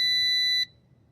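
A drone gives a single shrill electronic startup beep that holds for about half a second, then cuts off abruptly into quiet.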